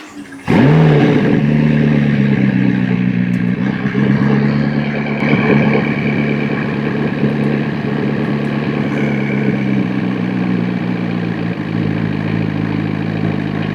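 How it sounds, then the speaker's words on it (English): McLaren engine under diagnosis for a possible smoking fault cranks briefly, catches and settles into a steady, loud, close running drone that holds with slight wavering for the rest of the stretch, no talking. "Okay, and I'll fire it back And if up. it starts smoking, then we know the problem's over here in this system somewhere."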